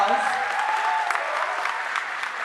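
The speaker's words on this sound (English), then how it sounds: "another round of applause." An audience at a Founders Day event applauds steadily, a dense, even wash of clapping that holds at a moderate level for a couple of seconds.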